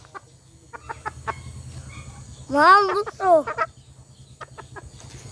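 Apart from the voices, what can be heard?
chickens clucking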